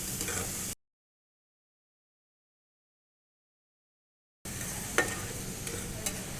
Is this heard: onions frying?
yes